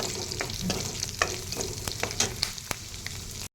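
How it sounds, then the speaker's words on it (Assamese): Chicken curry with bamboo stem frying in a pan on a low gas flame, with a soft sizzle under repeated sharp scrapes and clicks of a spatula being stirred through it, close and fairly quiet. "ধুনীয়াকৈ লৰাইছোঁ"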